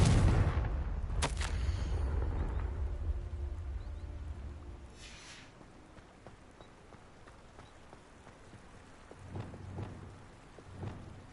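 A Confringo fire spell blasts in Hogwarts Legacy: a sharp, bursting impact at the start fades into a rumbling tail, followed later by two fainter thumping blasts against a quiet, rain-like background.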